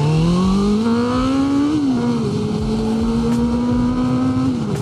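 A custom Ferrari 250 GTO engine drones steadily under load, its pitch climbing then holding as it cruises, heard loud and close from a following car with a constant road rush beneath.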